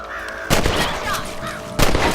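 Two loud rifle shots from the Red Dead Redemption video game on Xbox One, fired while hunting rabbits, each a sharp close crack followed by a lingering echo, spaced about a second apart over faint ambient game sound.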